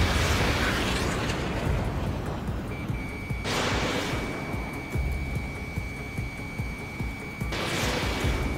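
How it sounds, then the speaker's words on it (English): A missile strikes its target and explodes in Ace Combat 7 aerial combat, a loud rumbling blast over constant jet roar, with a steady warning tone beeping across the middle and no speech. "Missile hit."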